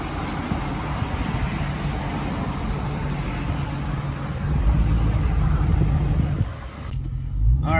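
A 2020 widebody Dodge Charger with a mid muffler delete rumbles with a deep, raspy exhaust tone while driving, swelling louder midway and dropping briefly near the end before picking back up.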